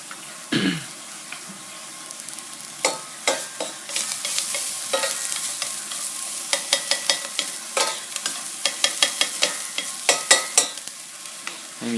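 Garlic frying in a hot pan for a clean low-calorie chicken rice porridge, with a steady sizzle broken by repeated scraping strokes of a spatula stirring close up, growing busier toward the end, no talking.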